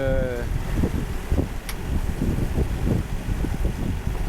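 Strong headwind on a sailboat heading toward Camaret through a choppy sea: a continuous, loud wind rush with irregular low thumps and sloshing, close by and without a break.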